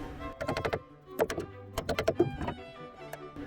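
Bursts of quick, sharp banging strikes, several in a row, then a pause and another flurry, like hammer blows on something solid.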